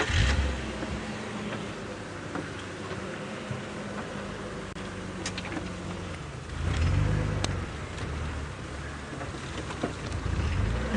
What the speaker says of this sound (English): there's a car coming straight for us